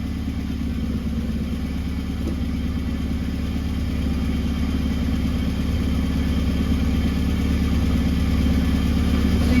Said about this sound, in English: The engine is now almost all the way warmed up.